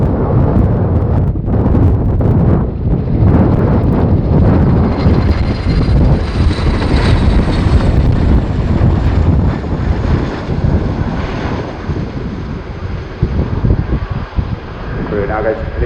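An RAF Boeing Chinook HC.6 helicopter performs a display wingover at an airshow, a loud, continuous roar with buffeting wind noise and a voice talking over it.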